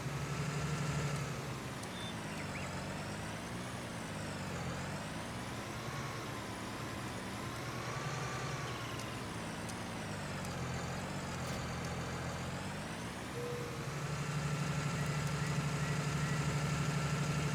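A tractor in Farming Simulator 19 hauls a trailer up a hill. Its engine drones steadily and close, rising and falling in pitch as it labors.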